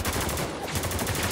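Rapid suppressed gunfire from a silenced weapon in the shooter game Spec Ops: The Line, a dense rattling burst of close, muffled shots over a steady game soundscape with no talk.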